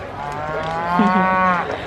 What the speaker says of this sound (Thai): อันนี้เป็นวัวเตี้ยนะคะ